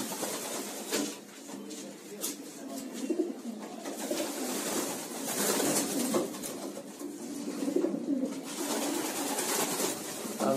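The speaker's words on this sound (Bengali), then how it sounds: "রেসিং এবং খুবই মূল্যবান দামি কবুতর।" Racing pigeons, valuable show birds kept in a loft, coo steadily throughout, a dense flock murmur close by with soft overlapping calls and some rustling.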